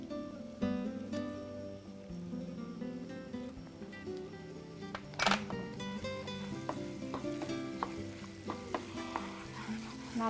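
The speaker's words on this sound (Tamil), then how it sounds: "நல்லா இந்த எண்ணெயில் நம்ம சேர்த்துருக்க பொருட்களை நல்லா வதக்கிடுங்க." Tomato, turmeric, chili powder and coriander powder sauté in hot oil in a home-style Tamil kitchen, a quiet, steady sizzle with occasional stirring scrapes and a soft clatter of utensils against the pan, with no talking.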